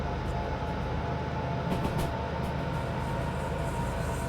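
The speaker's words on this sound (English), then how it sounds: "the wheels are really, they're really squealing through that curve" Train wheels squeal through a curve in the railway simulator Derail Valley, with flanges grinding: a steady, loud rolling rumble with a continuous high whine running under it, without pause.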